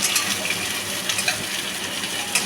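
Chopped onions with two bay leaves sizzle steadily in hot oil, stirred now and then with a utensil clinking against the pan, a continuous close frying hiss with no voices.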